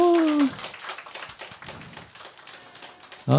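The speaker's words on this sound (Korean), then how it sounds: "일단 박수 한번 주세요." A church congregation at a Sunday service claps in a brief, moderately close burst of applause, dense quick hand claps running for a few seconds between bits of speech.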